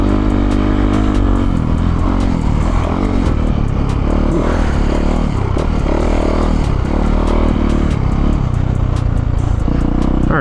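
A Yamaha YZ450F dirt bike engine runs continuously while riding double track on a cold day, a loud, steady low rumble with wind noise over it and no talk.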